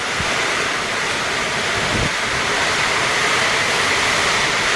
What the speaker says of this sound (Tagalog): Grabe lakas ng hangin mga kabukas.